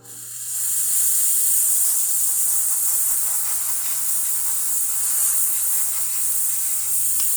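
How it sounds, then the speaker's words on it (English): A La Pavoni espresso machine's steam wand hisses loudly and steadily for several seconds after a full service tune-up, a bright continuous rush of steam with a low hum beneath it. "So let's test the steamer."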